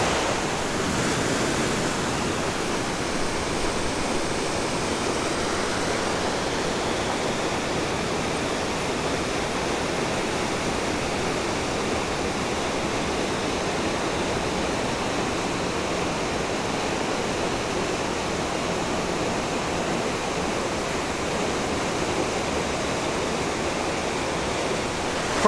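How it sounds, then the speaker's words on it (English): Tumwater Falls pours continuously, a broad, steady roar of falling water, loud and close, with a faint breath of wind mixed in and no voices. "So I'm in a city called Tumwater, and this is Tum Water Falls."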